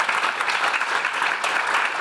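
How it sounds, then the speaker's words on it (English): A conference audience at a leaders' closing plenary bursts into a dense, sustained round of applause, many hands clapping together at steady loudness throughout. "Could you give a round of applause to David and Adar?"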